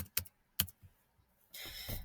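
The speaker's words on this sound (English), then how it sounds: "you can just right here type your answer just like that" A few sharp keystrokes on a computer keyboard while typing an answer into a text box, spaced irregularly and quiet, followed by a brief burst of faster clicking near the end.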